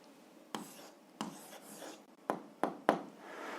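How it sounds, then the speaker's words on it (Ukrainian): A pen writes down a math answer on paper, with several faint scratchy strokes and taps at an uneven rhythm, close and quiet with no talking. "Записуємо відповідь, пишемо відповідь."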